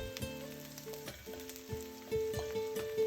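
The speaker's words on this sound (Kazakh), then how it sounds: "Жақсылап қуырылған пиязымызға сарымсағымызды саламыз да қуырамыз" Chopped garlic sizzles in a pan with already fried onion, the base for an oven-baked navy-style macaroni. A steady, close frying hiss runs throughout with a few brief stirring clicks, over faint tonal background sounds.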